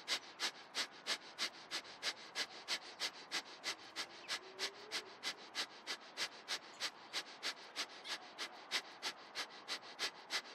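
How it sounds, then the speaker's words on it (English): Rapid, rhythmic breath of fire yoga breathing, a steady train of about two sharp nasal exhalations per second continuing evenly throughout, close and alone. "If not doing the breath of fire, stay here with deep and long breath for another 20."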